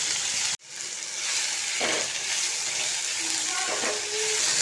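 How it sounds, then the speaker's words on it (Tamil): Tomatoes sauté in a hot pan for a spicy chutney, with steady frying sizzle and hiss broken by a sharp clatter and occasional stirring scrapes. "தக்காளி நல்லா வதங்கட்டும்"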